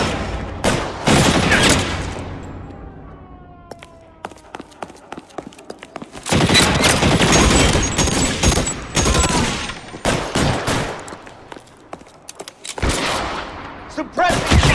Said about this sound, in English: Suppressing fire! Just what I need.